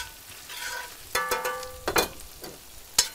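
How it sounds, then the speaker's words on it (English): Fresh sage leaves hitting hot browned butter in a pan, with a soft continuous sizzle, a few louder bursts of crackling and popping, and a brief sharp tick near the end. "I'm gonna add in the sage. Pop, pop, pop."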